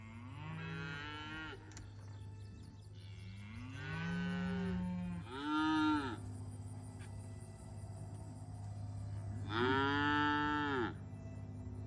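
Cattle on a farm, including a red cow with black stripes that has a calf, moo several times in long, drawn-out calls close by, with a steady low hum underneath and no talking.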